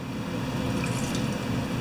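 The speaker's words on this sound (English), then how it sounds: "And we're going to pour water over this." Water pours over Poulan Pro chainsaw carburetor parts during an ultrasonic clean, a close, steady rushing splash that lasts throughout with no speech.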